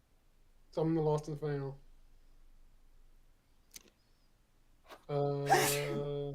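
A person sneezes sharply once, close and loud, with voices talking before and after.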